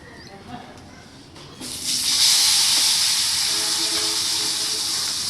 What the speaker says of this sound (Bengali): হ্যাঁ, আলুগুলো ভাজা হচ্ছে